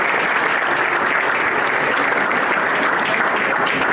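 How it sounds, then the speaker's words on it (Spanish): Dense audience applause at a MasterMind Latino event, a loud, even wash of many hands clapping steadily with no talk over it. "creo que todos y cada uno de ustedes merece un aplauso"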